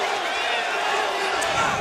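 A boxing arena crowd roars steadily through a James DeGale vs Lucian Bute fight, a broad continuous wash of cheering heard from within the venue, with a commentator talking over it.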